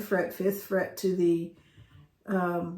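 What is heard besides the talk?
None of the usual background noises is heard.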